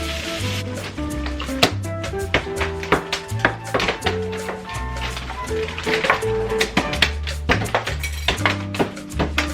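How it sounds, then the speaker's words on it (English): Spatula scraping and tapping against a pan while mixing hibachi rice and corn, a steady run of sharp metallic clinks and scrapes with a faint sizzle underneath, close and busy throughout. "you go ahead and keep on mixing from the bottom"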